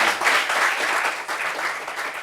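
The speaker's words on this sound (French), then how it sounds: "Applaudissements pour ça" Steady applause from a group gathered for a discussion meeting, a dense wash of many hands clapping at even loudness for about two seconds, no voices standing out.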